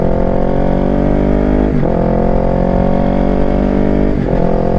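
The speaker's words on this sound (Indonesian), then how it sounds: "Wah anjir, racing banget motor di situ." Motorcycles racing along a city street, their engines a loud continuous drone close by that dips briefly twice as gears shift, with no talk over it.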